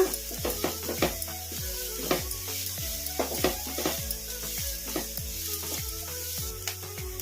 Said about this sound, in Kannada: ಈಗ ಕ್ಯಾಪ್ಸಿಕಮ್ ಕೂಡ ಸ್ವಲ್ಪ ಫ್ರೈ ಆಗಿದ್ದಾವೆ.